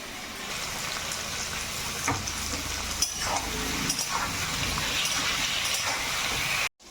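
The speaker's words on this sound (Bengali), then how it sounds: "প্রথমে আমি তাহলে পটলগুলো ভেজে নেব।" Pointed gourd frying in mustard oil with salt and turmeric gives a dense, steady sizzle close up, with occasional stirring scrapes and no talk, cutting off abruptly at the end.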